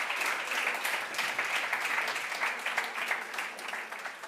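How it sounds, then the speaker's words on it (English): Dense, steady audience applause for a panel of speakers fills the whole stretch, loud and continuous with no voices on top. "Can we give them a big round of applause?"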